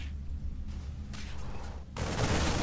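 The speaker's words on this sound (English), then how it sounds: "spreading out those siege tanks, just to make as many explosions as possible come to fruition for Mihai" Siege tanks fire in a StarCraft 2 battle, producing dense overlapping blasts and crackling booms that build into a loud, sustained barrage toward the end.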